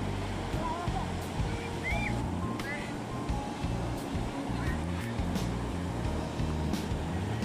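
Sea waves wash ashore at Payyambalam beach in Kannur with a continuous roar of surf and wind, people playing in the water nearby, and faint background voices.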